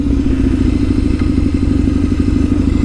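A classic scrambler motorcycle rides off-road, its engine a loud, close, steady rumble mixed with clattering and thudding from the rough ground.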